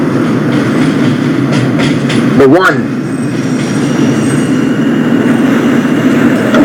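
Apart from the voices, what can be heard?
R160 subway train running in OpenBVE video game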